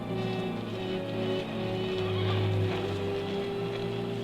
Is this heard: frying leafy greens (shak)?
no